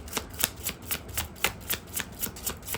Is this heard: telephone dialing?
no